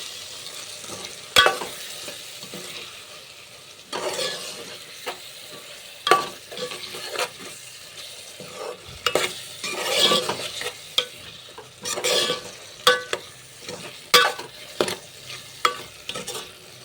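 A drumstick tomato curry being stirred in a pan, with a spoon scraping and tapping at irregular intervals over a soft, steady sizzle.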